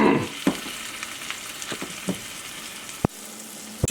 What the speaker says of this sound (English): Started searing the Brussels sprouts, pulled them off to let them rest for a couple minutes, put them back on.